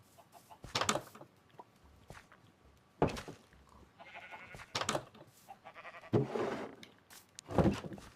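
Sheep in Minecraft bleat several times, clear and fairly near, with short cries spaced through a quiet game scene and a faint clucking mixed in.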